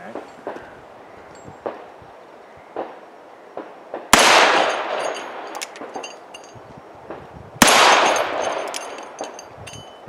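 Two loud gunshots ring out at a shooting range, about three seconds apart, each a sharp crack followed by a long echoing tail, with faint clicks and handling sounds between.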